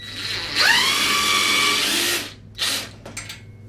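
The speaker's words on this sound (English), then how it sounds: "So we're going to make one hole here." A power drill bores a hole in a DIY headboard. The motor revs up to a loud, steady whine for about two seconds, then winds down, followed by a couple of short bursts.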